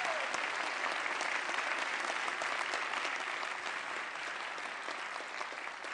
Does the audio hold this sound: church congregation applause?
yes